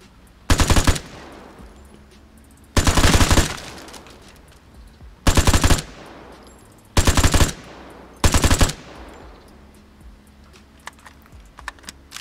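Five loud bursts of automatic fire from an AK-74-style KSU rifle in the shooter game Vigor, each a rapid stuttering volley about a second long, separated by quiet gaps with faint ambient noise.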